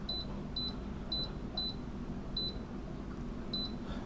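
Short high electronic beeps from an appliance as its start button is pressed for French fries, six or so quick chirps spaced irregularly over a quiet room background, with no talking.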